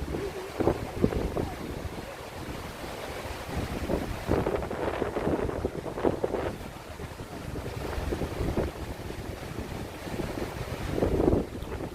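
Steady rushing water roars nearby at a memorial fountain in Manhattan, New York City, on an evening walk, with gusts of wind buffeting the microphone throughout.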